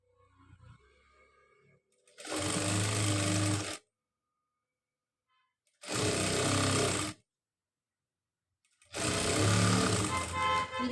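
Sewing machine stitching a nighty frock, running in three loud bursts of about one to two seconds each, separated by near silence.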